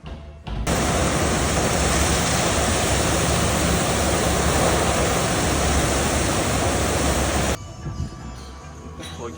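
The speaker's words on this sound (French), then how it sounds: "Et vous avez vu le jet d'eau là?" A bidet water jet in a public toilet sprays in a loud, steady hiss that starts abruptly and runs for several seconds before cutting off, heard close and alone.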